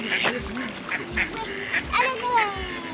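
Ducks quack outdoors in a rhythm of repeated nasal calls, fairly close and moderately loud, mixed with some honking fowl sounds and people talking in the background.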